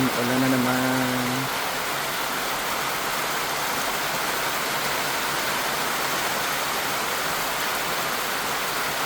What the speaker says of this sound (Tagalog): Yan, ulan na naman.